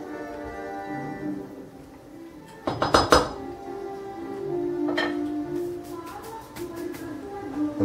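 Metal spoon clinking against a pot while a stock cube is stirred into mushroom soup, with a burst of close, rapid scraping clinks around the middle and lighter taps later over a low simmering background.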